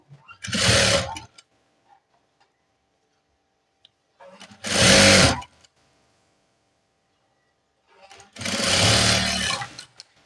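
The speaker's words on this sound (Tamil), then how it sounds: "இப்போ ஒரு குதிரோட தையல் வந்து நம்ம போட்டு விட்டுடலாம்" A sewing machine stitches the neckline of a nurse's uniform top in three short, loud bursts, each about a second long, separated by quiet pauses.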